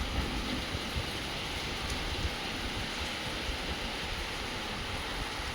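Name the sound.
heavy rainstorm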